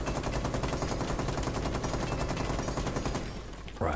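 Rapid, continuous gunfire from a video game shooter, loud and sustained for several seconds before briefly easing, with a sharp burst at the end.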